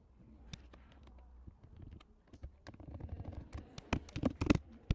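Keystrokes on a computer keyboard while typing code, a quick irregular patter of clicks that starts sparse and grows denser and louder toward the end, close and alone.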